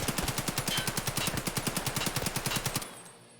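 A fully automatic AKM rifle fires a long, steady stream in Escape From Tarkov, with evenly spaced rapid shots for nearly three seconds before stopping abruptly and leaving a short fading tail.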